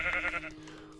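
A sheep bleats in the Minecraft video game, one short nasal wavering baa that fades quickly, close and clear with no talking over it.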